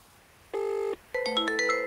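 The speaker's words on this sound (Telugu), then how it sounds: "మళ్ళీ ఫోన్ చేస్తాంది." An incoming-call phone ringtone plays as a short electronic tone burst, a brief pause, then a longer run of bright melodic beeps. It sounds clear and close against a quiet background.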